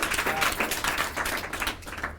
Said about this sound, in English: So we'll give them a round of applause, please.